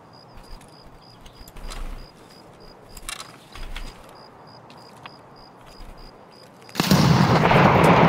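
A grenade explodes in a tactical shooter video game, bursting into a loud sustained roar near the end after scattered distant gunfire and thuds.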